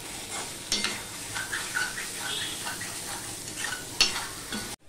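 Potato pieces fry and sizzle in a pan for an okra dish, a steady close crackle broken by a few sharp scraping stirs of a spatula, with no talking.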